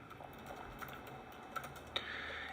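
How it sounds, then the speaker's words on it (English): Quiet typing on a new Mac computer's keyboard while entering a password: a short, sparse run of soft, close key taps over faint room noise, with no speech. "So I'm going to type in my 1Password here"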